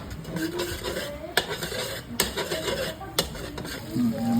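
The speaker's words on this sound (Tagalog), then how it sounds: "Ngayon yung ating sinaing, isasangag natin." Leftover rice being stir-fried with butter in a pan, a steady scraping stir with a few sharp utensil clacks against the pan over a soft background sizzle.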